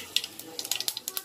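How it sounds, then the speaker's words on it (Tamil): Mustard seeds crackling in hot oil while making hotel-style poori masala, a quick irregular series of sharp pops and spits, close and fairly faint. "எண்ணெய் காஞ்சிருச்சு கடுகு"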